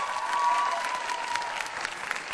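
An audience bursts into steady, enthusiastic applause, dense clapping that holds for a couple of seconds.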